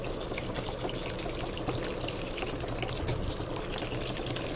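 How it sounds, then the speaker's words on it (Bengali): Rice being washed in water for pilau, with a steady, close wash of sloshing and trickling water that continues without a break. "চালটা ধুয়ে নিচ্ছি।"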